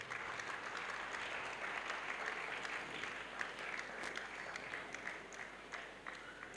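Sustained applause from a large crowd at an evangelism crusade, many hands clapping steadily and densely for several seconds with no voices standing out.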